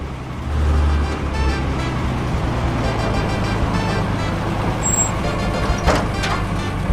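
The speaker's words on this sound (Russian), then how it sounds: "Смотрите, там едет какая-то машина." Cartoon car driving along a windy road, a continuous engine hum with road rumble and a brief higher tone, heard alone without talk.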